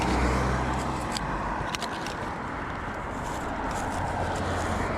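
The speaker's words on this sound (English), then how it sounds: "this side cars are accelerating to join the dual carriageway" Traffic rushes past as cars accelerate along a slip road onto a dual carriageway, a steady broadband roar with some crackling, heard from the roadside with no one talking.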